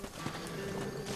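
A horse in the Red Dead Redemption video game clip-clops at a steady trot with a brief whinny, quiet and short, with no talking.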